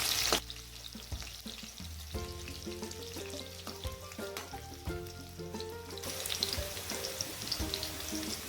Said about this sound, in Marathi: आता लसूण मिरची छानपैकी परतून झालेली आहे